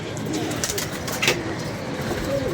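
Pigeons coo softly nearby, with low, rolling calls repeating over a constant hiss of background noise.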